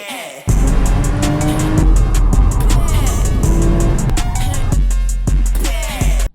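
Porsche car driving, loud engine roar with tire noise and shifting revs rising and falling, punctuated by sharp clicks, starting abruptly after a brief quiet moment and cutting off at the end.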